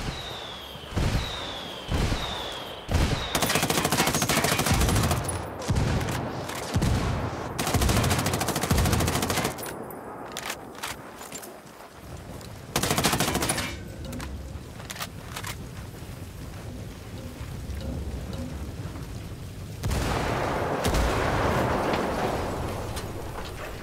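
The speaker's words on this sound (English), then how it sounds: "I called the rebels for some indirect fire." Indirect artillery fire from rebel allies in Ghost Recon Wildlands pounds the area in loud repeated blasts and bursts of gunfire, with a rumbling lull partway through before more heavy firing.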